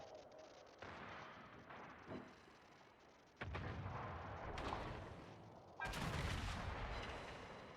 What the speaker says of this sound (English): These Iowa guns are just going to absolutely crush him.